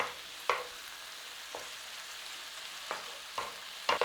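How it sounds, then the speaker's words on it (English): Tomato paste sizzles in a pan with thyme, making a soft continuous fry broken by a few sharp stirring scrapes spaced through the sound, with no talking. "So that's got a little bit of a cook on that tomato paste."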